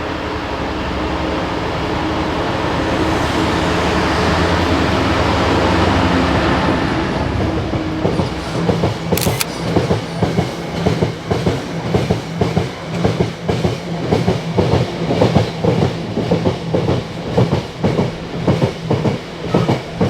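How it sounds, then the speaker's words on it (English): A Freightliner freight train rolls through a station in Birmingham, a loud near rumble building then giving way to rhythmic clickety-clack of wagon wheels over rail joints, steady and continuous throughout. "we've got a Freightliner on the way"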